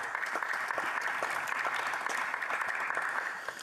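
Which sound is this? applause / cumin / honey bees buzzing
applause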